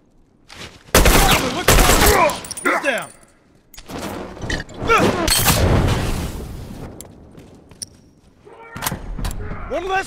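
Loud bursts of gunfire and explosive reports fill a multiplayer match of The Last of Us, coming in clustered volleys with gaps between them, while voices shout in the middle of the fighting.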